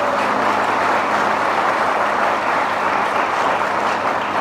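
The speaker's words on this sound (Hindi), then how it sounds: "जोर से ताली बजाएं" A congregation at a worship gathering clapping loudly, a dense continuous roar of many hands held at a steady level from start to finish.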